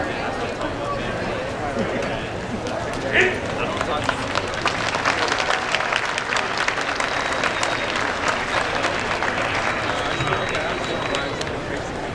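Outdoor festival crowd applauding a naginata martial arts demonstration at a cherry blossom festival, a steady wash of clapping with cheers, sustained throughout with crowd noise.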